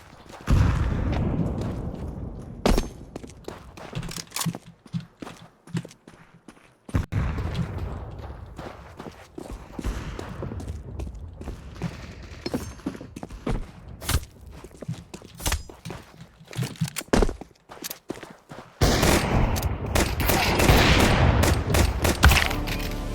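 Shooter video game combat: loud bursts of automatic gunfire and single shots, with sharp blasts and footsteps in between, running continuously and growing heavier near the end.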